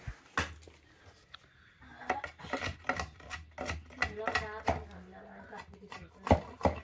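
Hand tools working a wooden handle for a farm hoe in a village, with repeated sharp chopping and scraping strokes up close, broken by pauses, while people talk nearby.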